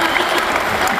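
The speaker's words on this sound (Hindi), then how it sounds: "और इस बार तो आपकी भरपूर तालियां बजेंगी" An audience claps at a live Hindi poetry performance, a short, dense burst of applause that stays loud and steady.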